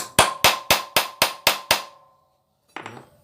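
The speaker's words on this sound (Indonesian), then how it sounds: "Yang gini kita pukul-pukul seperti ini ya, dan kita gunakan mata obeng seperti ini" Screwdriver tip tapped against a motorcycle ignition part to loosen it, seven sharp metallic knocks in an even quick rhythm, then a pause and one softer tap.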